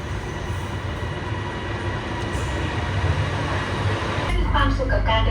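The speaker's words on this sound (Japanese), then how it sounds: "やばい、電車来てるわ" A train pulls into a station in Bangkok with a loud, continuous rumble and rising low-frequency roar, heard close by as it arrives.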